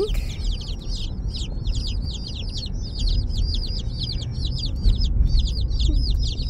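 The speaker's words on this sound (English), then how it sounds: "we got our chicks. And listen to the sounds of that peeping." Dozens of baby chicks peeping inside a shipping box, a dense chorus of high, rapid chirps close by over low rumbling background noise.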